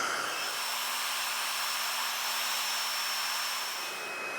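A hair dryer on its cool shot setting blows steadily throughout, a close and loud continuous whoosh of air with a faint motor hum underneath and no talking.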